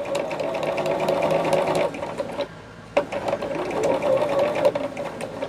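A sewing machine stitches binding onto a quilt for a small 2024 Liberty Box project, its steady close whir running in two long bursts with a brief pause between.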